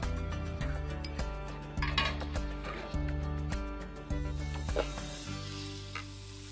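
Finely chopped onion frying in oil, with a soft steady sizzle that runs throughout beneath loud rhythmic background music.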